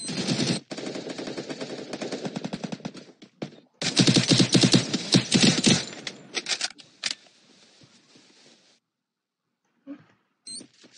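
Rapid SMG bursts from a PC video game, with two long dense volleys followed by scattered shorter shots and a few isolated late pops, loud and close with no talking.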